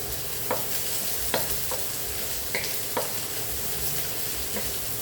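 Onion sizzles steadily in a hot pan for tinolang manok, a dense continuous frying hiss with occasional spoon scrapes and stirring knocks, close and even throughout.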